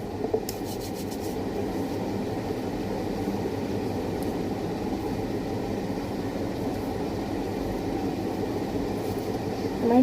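A train runs along the tracks with a steady, loud low rumble and rolling wagon noise, heard from on board, with a few faint clicks near the start and no talking.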